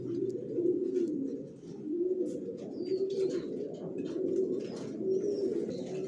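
Racing pigeons of one line coo close by in repeated soft, rolling phrases, several birds overlapping in a steady rhythm with faint rustling in the background.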